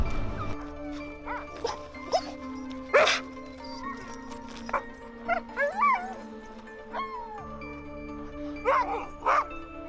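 Greenlandic sled dogs bark and yip outdoors, scattered single barks and short whines spread unevenly across the clip, at moderate distance over a steady low hum.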